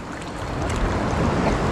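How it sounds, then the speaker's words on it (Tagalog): Strong ocean waves at a beach, a loud continuous wash of surf building steadily with no talk over it. "Yun, lakas ng alon."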